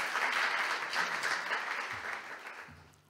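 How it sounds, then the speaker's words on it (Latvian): Conference audience applauds, a dense wash of clapping that starts loud and tapers off gradually over about three seconds, with no talking. "Ar aplausiem."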